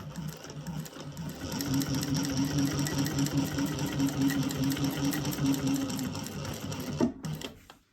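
A sewing machine top stitching a crossbody bag runs in a fast, steady whirr for several seconds, then stops with a sharp clunk, leaving a quiet tail.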